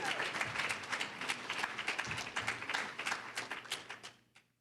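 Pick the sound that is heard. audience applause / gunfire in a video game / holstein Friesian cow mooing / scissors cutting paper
audience applause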